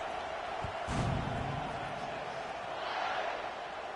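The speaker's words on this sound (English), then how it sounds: "this crowd is buzzing after that last score" A stadium crowd in the College Football 26 video game hums with a steady, continuous buzz, and a dull thump lands early on.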